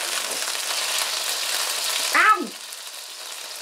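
Surf and turf burger patties frying in hot oil, a steady loud sizzle throughout, with a woman's sharp pained cry cutting in near the end.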